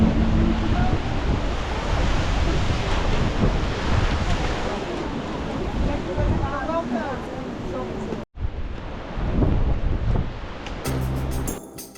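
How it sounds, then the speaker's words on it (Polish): Strong wind and crashing waves at Port Saint-Michel beach on Ibiza on a blustery early-spring day make a loud, continuous surf roar with wind rumbling against the microphone, broken by one brief dropout near the end. "Wczesnowiosenna pogoda i silny wiatr nie zachęcają do plażowania."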